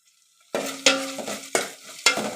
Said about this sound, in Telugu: ఆనియన్ పచ్చిమిర్చి వేగిన తర్వాత అల్లం వెల్లుల్లి పేస్ట్ అయితే వేస్తాం.